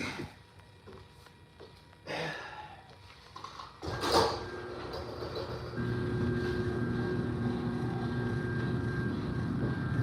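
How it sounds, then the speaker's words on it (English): A garage door opens with a rising mechanical rumble and clatter that settles into a steady motor drone, preceded by a few knocks and handling sounds. "I'm open the garage door."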